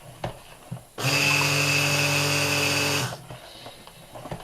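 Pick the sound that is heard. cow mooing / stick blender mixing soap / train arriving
stick blender mixing soap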